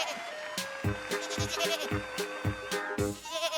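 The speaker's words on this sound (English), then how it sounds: "Goat." Goat bleating in a kids' door-choosing game, a string of rhythmic wavering bleats repeated about six times over a backing music track, loud and near.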